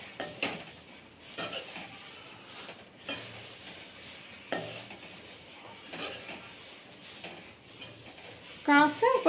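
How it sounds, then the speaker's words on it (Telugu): Plain white flattened rice (poha) is dry-roasted in a pan without oil. A spoon scrapes and clatters against the metal in irregular strokes over a faint sizzle, with some talk in the background. "తెల్ల అటుకులని వేయించాలి. అది నూనె లేకుండా వేయించాలి"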